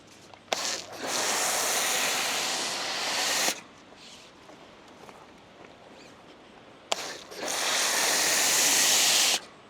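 Two long bursts of car shampoo hiss from a sprayer onto a car's windshield and hood, each lasting about three seconds, close and loud, with quiet handling sounds in between.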